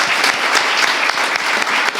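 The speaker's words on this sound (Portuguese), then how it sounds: "Peço uma salva de palmas para ele, por favor" A live podcast audience gives a short, close round of applause, with individual claps audible within the dense clatter.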